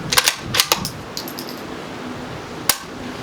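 Sharp rimfire reports from a CZ 457 rifle shooting at targets, a cluster of several quick cracks followed by a lone shot after a pause, fairly close and loud.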